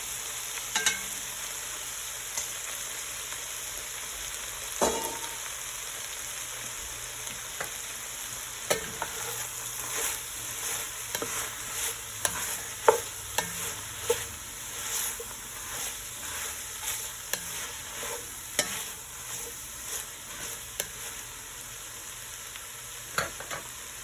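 Beef and broccoli frying in a hot pan with a steady background sizzle and hiss, punctuated by scattered clinks and scrapes of stirring, close and moderately quiet, no talking.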